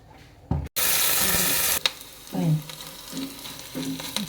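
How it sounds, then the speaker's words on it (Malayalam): Prawns drop into hot oil in an iron pan for a chutney and set off a loud, sharp sizzle. It burst hard for about a second, then eased into softer frying crackle with occasional stirring scrapes. "അതിൽ കുറച്ച് എണ്ണ ഒഴിച്ചിട്ട് നമുക്ക് ആദ്യം ഈ ചെമ്മീനൊക്കെ ഒന്ന് വറുത്തെടുക്കാം കേട്ടോ"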